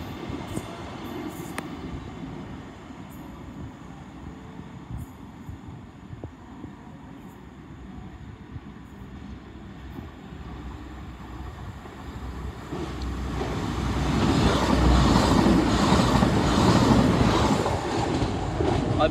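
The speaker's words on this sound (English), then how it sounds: "we have a Voyager coming through on the service to Bournemouth from Manchester Piccadilly" A Class 220 Voyager diesel train passes through St Denys station on a Bournemouth service, a steady rumble of wheels and engine that swells louder toward the end as it draws near and goes by.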